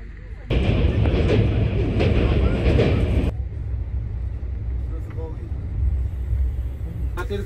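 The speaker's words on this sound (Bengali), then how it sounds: "এইরকম একটা সুন্দর জানালা দিয়ে ট্রেন ছেড়ে দিয়েছে যদিও" Train departing Sealdah station, heard from inside a carriage by the window: a loud, steady rumbling roar of wheels on rails for about three seconds, then a quieter continuing run with faint clicks.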